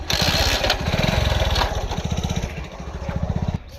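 A motorcycle engine putters in a quick, steady chain of low thumping pulses, close by, briefly easing and then picking up again before cutting off.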